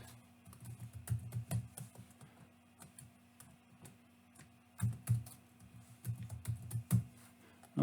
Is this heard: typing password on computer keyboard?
yes